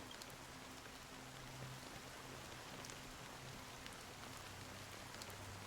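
Steady rain falling in the Honkai Star Rail game world, a dense continuous hiss of drops with a faint low hum beneath, even and unbroken throughout.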